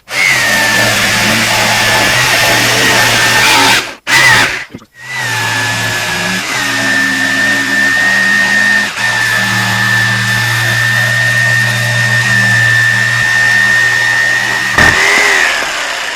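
A power saw whines steadily as it cuts the transom and stringers of a Carlson CVX-18 boat, with two brief stops and restarts during the long cut.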